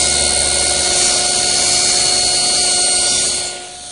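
A table saw with its blade tilted to 45 degrees cuts a miter on a wooden stile against a stop block, a loud steady whine of the blade that eases off at the end.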